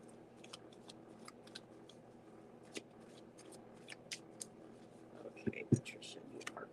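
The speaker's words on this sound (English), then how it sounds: "My shuffling never gets too loud." Tarot cards being shuffled quietly by hand without riffling, soft repeated slides and taps scattered through the stretch with a couple of sharper clacks near the end, close and gentle under a low background.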